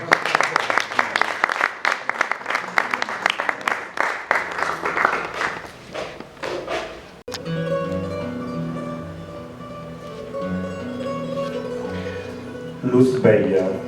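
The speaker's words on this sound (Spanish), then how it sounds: "un fuerte aplauso para Stefano Carbone" An audience applauds poet Stefano Carbone at a poetry event. Loud, rhythmic clapping with a sustained tone under it lasts around six seconds, fades, and then gives way to melodic instrumental music.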